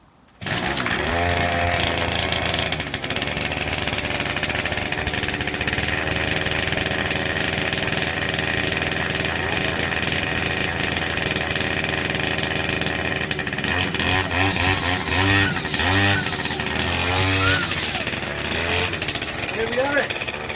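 Small two-stroke engine, running on freshly mixed two-stroke fuel, buzzes steadily and loud like a chainsaw, then blips through several sharp revs near the end, with people talking over it.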